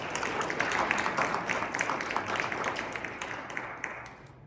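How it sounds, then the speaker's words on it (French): A church congregation at a Sunday Mass in Laval claps together in sustained, moderately loud applause that slowly tapers off toward the end. "On applaudit une fois de plus."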